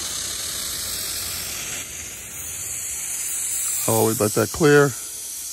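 Propane hisses and sprays out of a tank valve during a delivery, a steady bright hiss running throughout, with someone talking briefly near the end over it.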